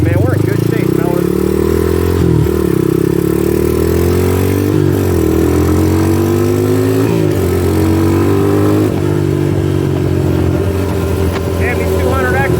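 A Honda ATC200X three-wheeler runs continuously while being ridden, its engine droning loudly and close with repeated rises and drops in pitch as it shifts through gears, a voice briefly speaking over it.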